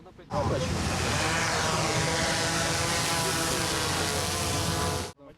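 Unmanned aerial drones are flown by National Guard members at an outdoor demonstration site, producing a continuous, even buzzing drone with tonal whine layered over wind-like noise from start to finish.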